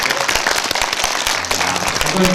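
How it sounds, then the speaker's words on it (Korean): A cinema audience at a film screening Q&A applauds to close the session, a dense, fairly loud round of clapping with sharp individual claps standing out. "박수 좀 부탁드리겠습니다"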